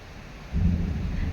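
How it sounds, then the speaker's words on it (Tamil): Thunder rumbling during a heavy rainstorm, a deep low roll swelling midway and continuing over steady rain hiss. "இடி இடிச்சு மின்னல் வெட்டுது பளிச்சு பளிச்சுன்ட்டு."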